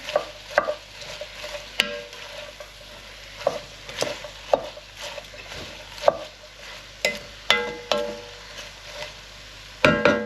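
Onions with a pinch of salt are stirred in a pot for French onion soup: a soft, close sizzle with a run of irregular scraping and clacking strokes, and no voices.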